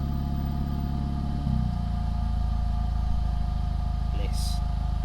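Renault Megane RS Trophy with a full exhaust system, valve closed, idling in standstill traffic: a steady, deep, loud engine drone throughout, briefly shifting in pitch early on, with a short faint chirp near the end.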